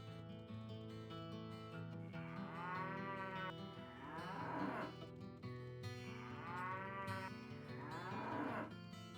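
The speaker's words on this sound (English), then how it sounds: "Oh, hey, a cow." A cow in the video game Diablo moos twice, with long, loud, drawn-out calls that rise and fall in pitch. They sit over a steady, layered game soundtrack that carries on throughout.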